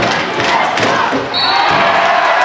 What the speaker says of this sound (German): der größte Teil der Zuschauer steht mittlerweile und pusht die Mannschaft in die letzten Minuten